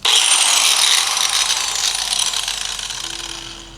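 Angle grinder cutting through metal motorcycle rearset parts for a Honda CB750F, a loud, continuous high-pitched grinding whine held close up for several seconds before easing slightly.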